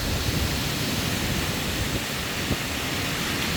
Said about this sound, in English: Okay, we're getting gusty here.